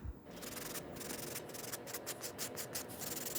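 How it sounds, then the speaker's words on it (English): A nail buffer scrubs over a fingernail surface near the cuticle edge, a steady close rasping rub with rhythmic strokes repeating across a few seconds, with no voices. "It is better if you buff at the cuticle edge."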